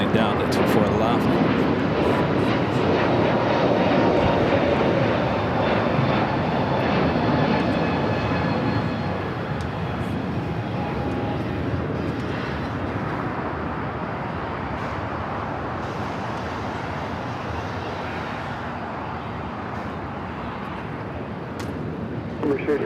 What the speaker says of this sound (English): Let's go to the Emirates A380 Super